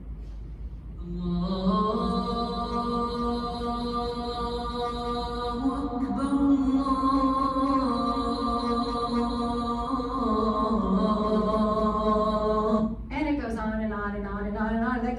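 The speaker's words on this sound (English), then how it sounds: "This is the call of prayer." A single amplified voice chants the Islamic call to prayer in Saudi Arabia, a long, wavering melodic call of drawn-out tones sung over a faint background hiss, broadcast through loudspeakers.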